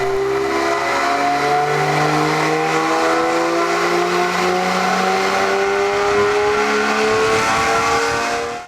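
A BMW E82 135i on a dyno is revved hard, its engine note climbing steadily in pitch through a sustained loud pull, with a whistling whine riding above, before cutting off at the end.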